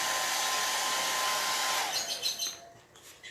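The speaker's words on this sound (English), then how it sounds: "I think my blow dryer got a little overheated." A blow dryer roars steadily at close range while drying paint on a bumble bee potted plant craft, then sputters and drops off near the end.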